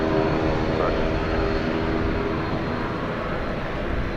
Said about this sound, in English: This is a Dash 9 Dreamliner going to Sydney.